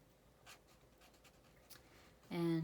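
Quiet scratchy strokes of a pen on sketchbook paper, a few short scribbles spaced apart while drawing a flower stem, then a brief louder tonal sound at the end.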